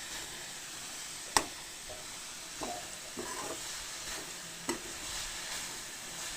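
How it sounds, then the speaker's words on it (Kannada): Vegetables for fried rice sizzle steadily in hot oil in a covered pan, a soft continuous frying hiss with a few brief clinks and taps from the pan or lid. "ಈಗ ಇದನ್ನು ನಾನು ಒಂದು ಟೆನ್ ಮಿನಿಟ್ಸ್ವರೆಗೂ ಇದೆಲ್ಲ ಫ್ರೈ ಆಗೋ ಥರ ಮುಚ್ಚಿ ಇಡ್ತೇನೆ"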